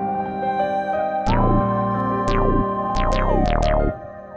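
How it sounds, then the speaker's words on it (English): Vocal sample pitched up an octave in FL Studio for a beat, a high, chipmunk-like sung phrase with gliding pitch sweeps over a heavy low bass, loud and close, ending abruptly. "It's just gonna bring the vocal up an octave or down depending on what you want to do."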